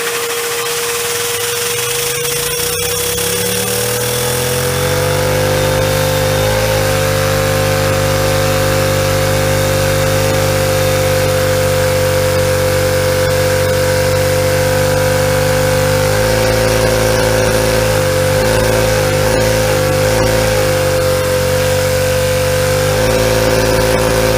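A small engine lubricated with engine assembly lube instead of WD-40 runs flat out at top speed, a loud, steady, high-pitched drone held for the whole stretch, with a few brief wavers near the end and no voices.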